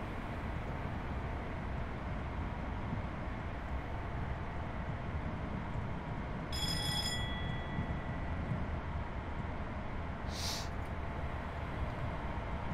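In Train Simulator Classic, a high-speed train runs steadily over the rails, giving a constant loud rumble and rattle of the wagons, with a brief tone chime partway through and a short sharp click later.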